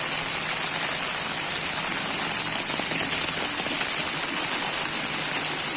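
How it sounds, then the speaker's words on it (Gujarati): Heavy rain falls over Jetpur town in Rajkot district, Gujarat, as a dense, even hiss and patter of drops on surfaces that continues without a break. "રાજકોટ જિલ્લાના જેતપુર શહેરની અંદર થોડા દિવસ વિરામ બાદ જે વરસાદ જે વરસી રહ્યો છે"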